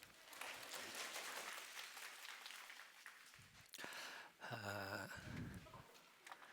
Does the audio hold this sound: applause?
yes